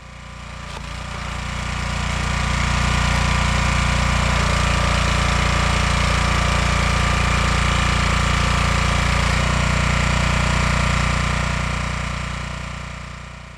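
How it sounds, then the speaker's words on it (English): Steady loud engine drone of a homemade horizontal or vertical log splitter working red oak firewood, continuous and close, with a brief shift partway through and no talking. "So when I built this log splitter,"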